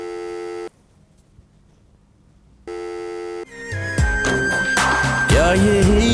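A telephone rings unanswered in a scene from the TV drama Dil Mein Raho, repeated electronic bursts separated by a silent gap, then dramatic music swells in and takes over.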